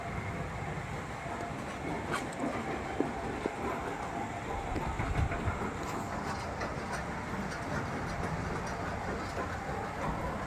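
A steel millet separator with six sieve trays, a Chinese-made machine in a mini rice mill running on single-phase power, gives a steady broadband mechanical rumble and rattle throughout with no talking.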